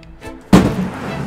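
A single loud blaster shot fires in an arcade-style alien shooting game, preceded by a faint softer blip, then a ringing decay.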